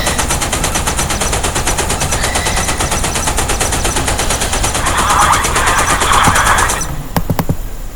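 Rapid, continuous machine gun fire rattles loudly in the Modern Warships naval combat game, a dense unbroken stream of shots that cuts off near the end, followed by a few sharp separate bursts.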